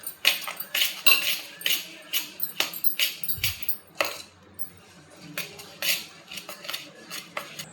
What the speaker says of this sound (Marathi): हे एकदम छान मिक्स करून घ्यायचं.